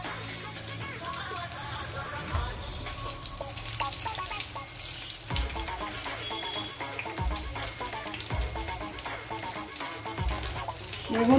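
Topse fish shallow-frying in hot oil, a steady close sizzle and crackle with a few sharper bursts and soft clanks as the pieces are turned.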